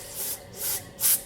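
Brake cleaner is sprayed into the parts of a Briggs and Stratton auto-choke carburetor in three short, close hissing bursts, and the last burst is the loudest.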